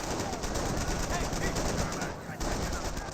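Dense, continuous rifle and machine-gun fire in a Company of Heroes World War II real-time strategy battle, with rapid overlapping shots under game sound effects, fairly loud throughout with a brief dip.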